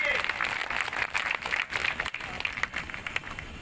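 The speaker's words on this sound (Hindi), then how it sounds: "एक बार जोरदार तालियां पूरे मंच की टीम के लिए" Audience at a political rally clapping with cheering voices mixed in, a busy, fluctuating crowd noise of moderate loudness.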